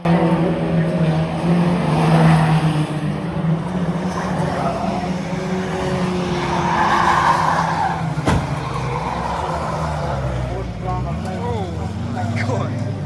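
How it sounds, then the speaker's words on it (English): Stock cars racing at a walled short oval, engines roaring continuously with tyre noise as one car loses traction and strikes the wall, a brief sharp impact midway, all under steady commentary. "the 46 car loses traction and hits the wall"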